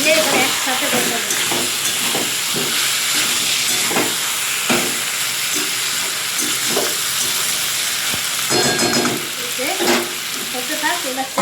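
Chicken and fried potatoes sautéing together in a pan give a steady, loud, close sizzle and hiss, broken by repeated scraping and stirring strokes of a spatula throughout, with no one talking.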